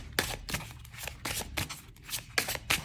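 A new tarot card deck being shuffled by hand, with repeated riffling bursts in a quick, uneven rhythm, fairly close and clear, with no talking.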